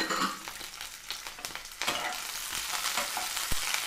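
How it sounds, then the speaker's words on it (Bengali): Cubed onions frying in a pan for bread Manchurian, a steady crackling sizzle with occasional stirring scrapes, close and continuous with no talking. "এখানে আমরা যে পেঁয়াজ কিউব করে কেটে রেখেছিলাম সেটা আমরা দিয়ে দিচ্ছি"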